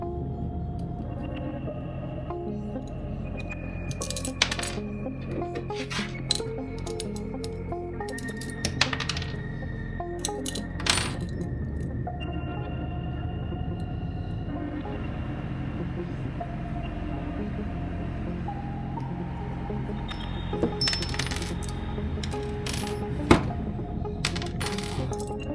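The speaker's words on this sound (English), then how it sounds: "and remove the grip screws" Small metal clicks and taps ring out while grip screws are removed from a Staccato XC pistol during a full teardown, scattered sharp ticks over a low steady background hum.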